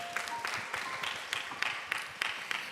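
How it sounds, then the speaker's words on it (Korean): Church congregation applauding during a Sunday afternoon worship service, a steady wash of many hands clapping with sharper bursts recurring throughout. "우리 마음 가득 모아서 서로를 위해 축복의 격려의 박수 보내겠습니다"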